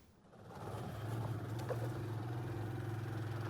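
A motorcycle rides along a forest track in Comoé province, Burkina Faso, its steady mid-pitched engine drone building over the first second and then holding constant, close and continuous with no talk.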